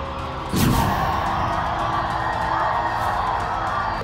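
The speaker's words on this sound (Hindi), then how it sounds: "माधवी के लिए सब लोग ताली बजाओ भाई" Crowd at an election rally in Hyderabad for Madhavi Latha erupting into cheering and clapping after a sharp start, sustained loud, dense noise with shouts throughout.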